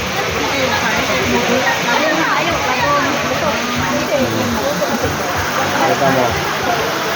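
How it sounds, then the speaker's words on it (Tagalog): Kawayan Falls in Infanta, Quezon, pours as a constant, full rushing roar of falling water, close and loud for the whole stretch, with voices talking faintly over it. "The Kawayan Falls, Infanta, Quezon."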